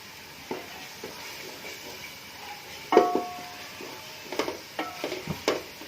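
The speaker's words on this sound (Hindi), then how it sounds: "मसाला हमारा भुन रहा है।" Masala fries quietly in a pan, a soft low sizzle under occasional sharp clinks and scrapes of a spoon against the metal as it is stirred.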